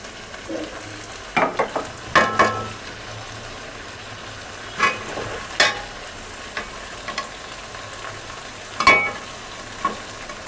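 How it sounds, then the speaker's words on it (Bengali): Onions fry in a wok on the stove, a low sizzle broken by scattered clanks and scraping stirs of a spatula, close and moderately loud. "কড়াইটা বসিয়ে নিলাম, এখন এই পেঁয়াজটা ঢেলে দেব।"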